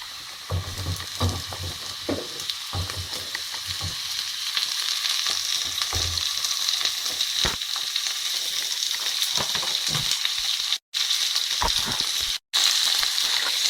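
Capsicums sizzling and frying with cooked onions in a pan for chilli paneer, a steady broadband crackle with occasional stirring clatter, fairly close and continuous, with two brief dropouts near the end.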